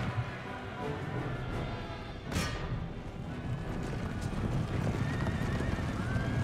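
Cavalry horses charging in Empire Total War, a dense rumble of many hoofbeats with horses neighing, loud and continuous, no voices.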